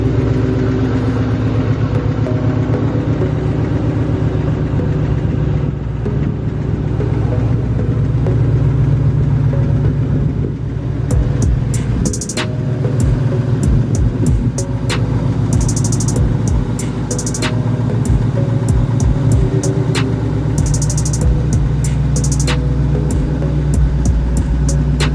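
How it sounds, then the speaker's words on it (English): A car engine runs at a steady low idle-like rumble while the vehicle backs into a garage, close and continuous with no talking. "I probably need to go ahead and back it up into the garage and lift it up just to see"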